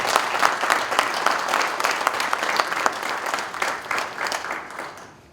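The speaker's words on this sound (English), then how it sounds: "A big round of applause for them." Dense, sustained applause from an audience at a public health workforce event, steady clapping throughout with a few sharper claps standing out before it thins near the end.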